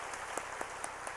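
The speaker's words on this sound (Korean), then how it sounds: "우리 박수로 환영하시겠습니다" Church congregation clapping to welcome visitors during a worship service, faint even patter of many hands with a few sharper claps standing out, brief and distant.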